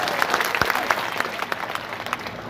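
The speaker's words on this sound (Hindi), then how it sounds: "इसलिए ज्योति जी मृदा का जोरदार तालियां बजा के जोरदार स्वागत" A crowd at a political rally claps loudly to welcome a speaker, a dense, continuous applause close by with some voices mixed in.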